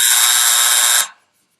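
A loud, steady electronic speaking-time buzzer at a city council meeting blares alone for about a second, then cuts off abruptly into silence.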